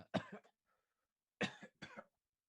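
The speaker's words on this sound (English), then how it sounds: "coughing noise." A person coughs in a few harsh bursts: one near the start, then two more about a second later, with near silence between them.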